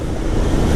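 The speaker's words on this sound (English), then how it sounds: "That wind. I am a sail." Loud, steady wind roar buffeting the microphone while riding a motorcycle, a constant low rushing blast with no voices.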